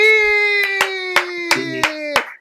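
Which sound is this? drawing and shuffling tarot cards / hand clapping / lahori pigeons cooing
hand clapping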